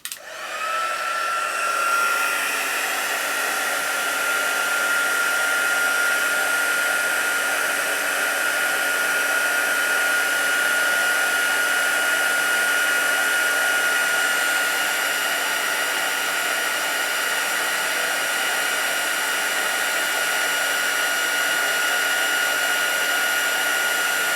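A heat gun used for heat embossing on a crafting desk blows continuously for over twenty seconds, a loud, steady, high-pitched whirring whine close to the microphone.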